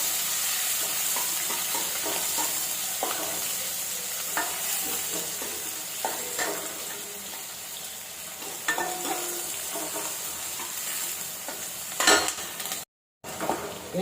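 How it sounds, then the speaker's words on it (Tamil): Chopped onion and green chillies sautéing in a pan, with repeated scraping stirs over a steady close sizzle and a few clinks of the utensil against metal. "சேர்த்து நல்லா வதக்கிக்கலாம்"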